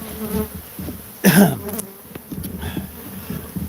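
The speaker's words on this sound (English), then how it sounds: "These bees sent 2 people to the hospital." Invasive bees buzzing outdoors, with one loud close pass building and fading, then fainter buzzing and low background noise.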